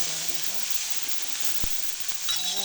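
Garlic and onion fry in a pan for a tomato chutney, giving a steady close sizzle with a brief sharp tap near the middle and faint stirring toward the end.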